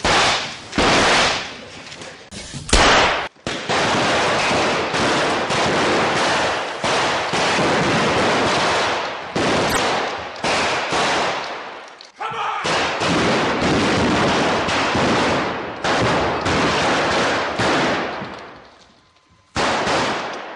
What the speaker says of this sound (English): With the actual Sterling that they used, they actually fired blanks out of it.